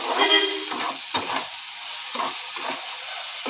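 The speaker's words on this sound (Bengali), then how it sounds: "এইবার ভালো করে ভেজে নিতে হবে।" Vegetables with salt frying in a pan for soya chow mein: a constant bright sizzle broken by several scraping stirs, close and fairly loud, with no talking.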